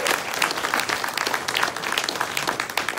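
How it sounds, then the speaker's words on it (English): Steady audience applause at a political event for the NDP leader in Vancouver, dense and continuous clapping from a large crowd filling the whole stretch with no speech over it. "Give him one more round of applause."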